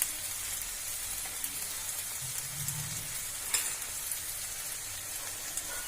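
Onion and tomato masala fries in a pan with a steady, moderate sizzle, a faint low rumble and one sharp clink partway through.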